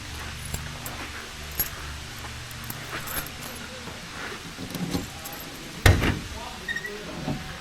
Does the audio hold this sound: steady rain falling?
no